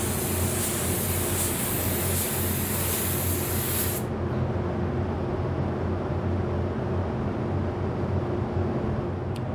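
Spray gun lays down a coat of candy copper paint with a steady, loud broadband hiss that cuts off partway, leaving a lower continuous airy rumble.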